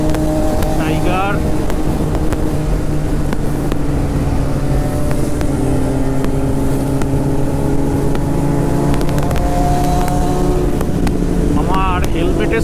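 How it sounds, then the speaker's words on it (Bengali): Kawasaki ZX-10R superbikes ride along a road toward Kolaghat near Kolkata, their engines a steady, droning hum buried under heavy wind buffeting throughout. "আজকে প্রচুর সুপার বাইক যাচ্ছে কোলাঘাটের দিকে"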